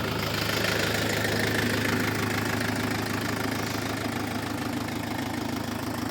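Tractor, a Skaut 404, pulls a Kverneland plough through wet, sticky field soil, its engine droning steadily with a low knocking throb, continuous and fairly close, with no talk.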